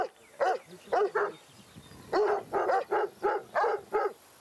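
A Greek sheepdog barks in a string of sharp, loud barks, a few spaced at first, then a quick run of five or six, fairly close with no talk over them.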